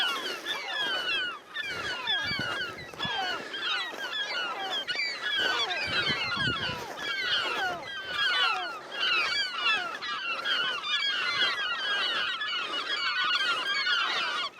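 Gulls at a seabird nesting colony where great black-backed gulls have nests, eggs and young, many overlapping loud honking calls forming a dense, continuous chorus with no talking.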